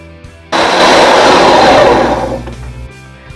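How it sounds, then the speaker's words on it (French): A countertop blender mixing crêpe batter with milk, salt and sugar, whirring loud and close for about two seconds after a sudden start, then winding down and stopping. "Ok, konya mwen pral blende li."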